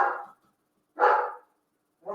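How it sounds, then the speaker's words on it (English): A dog named Rocky barks three times at a steady pace, each bark sharp and fairly close, with clear gaps of silence between them and no voices. "the dog starts barking"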